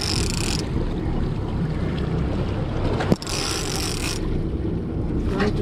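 An offshore fishing boat's motor runs steadily near Oregon Inlet during tuna fishing, a constant low rumble mixed with wind buffeting and water noise, with a brief knock partway through and no talk.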